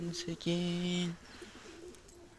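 Pigeons coo nearby, a few short low coos followed by one longer, drawn-out coo, then quieter background.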